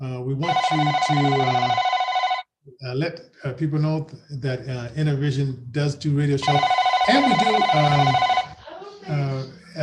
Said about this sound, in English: And that's the phone in our live studio.